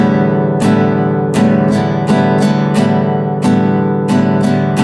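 A guitar played in a beginner's second strumming pattern with a pick or strumming hand, an uneven rhythm of loud close strums mixing longer gaps with quick paired down-up strokes, ringing chords throughout and no voices.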